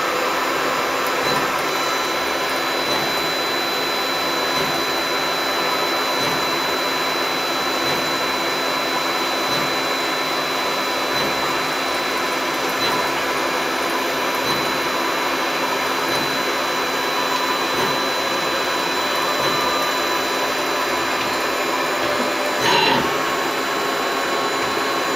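A Star SW7R Swiss-type CNC lathe with independent slides runs at about 6000 RPM, giving a loud, steady mechanical whine and hum that holds unbroken throughout, with one brief knock near the end.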